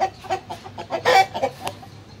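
Dong Tao chickens clucking on a farm, a run of short, close, fairly loud clucks and squawks in an uneven rhythm, with no talk.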